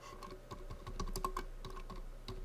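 Keystrokes on a computer keyboard while entering title text in video editing software, a quick irregular patter of light clicks at close range with no voices.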